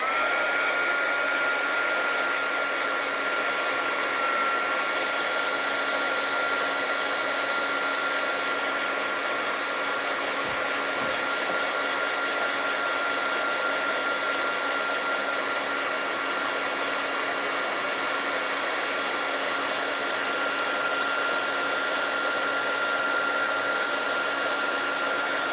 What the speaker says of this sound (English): I'm sorry for the heat gun.